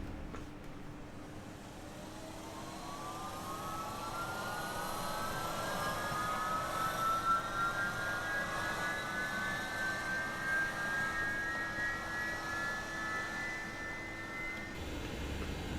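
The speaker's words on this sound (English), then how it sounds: "Starting 3. Engine 3 start." MD-11 engine 3 spooling up during a simulated start: a steady low drone with a rising whine that climbs gradually and holds, fairly quiet and with no talk.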